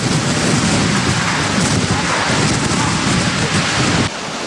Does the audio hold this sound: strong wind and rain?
yes